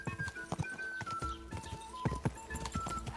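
Hooves of a horse in Kingdom Come: Deliverance 2 clop in an uneven rhythm of sharp, close thuds, with a faint whinny and game ambience underneath.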